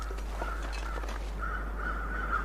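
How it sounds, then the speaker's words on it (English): Crows cawing near a dead body in the video game The Long Dark, with repeated harsh caws over a steady low wind-like background drone, moderately distant. "that's a dead body where the crows are"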